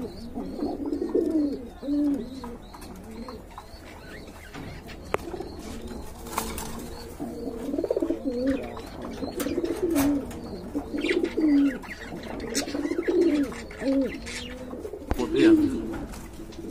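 Repeated low pigeon coos rise and fall throughout, several birds close by at a pigeon sale, with occasional soft flutters and faint background noise; no one speaks.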